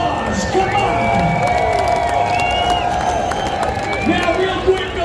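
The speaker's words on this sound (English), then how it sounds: "give yourselves a big round of applause" A crowd at the Full Throttle Saloon during Sturgis applauds and cheers, with steady clapping, whoops and shouts filling the room at a fairly loud level while a voice carries over the noise.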